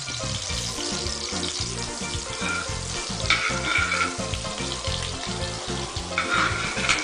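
About 25 grams of butter with a teaspoon of oil melts and sizzles in a pan, a steady dense crackle heard close up over a rhythmic tonal backing.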